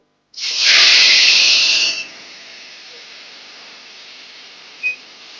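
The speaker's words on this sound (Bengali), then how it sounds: "এবারে আমরা কেটে রাখা টমেটো গুলো কড়া তেলের মধ্যে দিয়ে দেবো" Chopped tomatoes hit hot oil with a sudden loud hiss that holds for about two seconds, then settles into a faint, steady sizzle, close and without talk.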